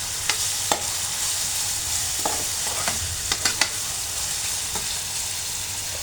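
Pre-boiled chicken pieces fry in a pan for noodles, giving a loud, continuous sizzle with scattered clicks and scrapes from stirring, with no talking.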